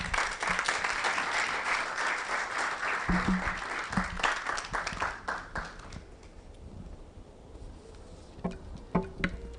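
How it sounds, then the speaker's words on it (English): An audience at the launch of the 2022 National Science and Maths Quiz applauds steadily, then the clapping thins out and fades, leaving a few scattered claps and some background noise near the end. "Ladies and gentlemen, please another round of applause for her."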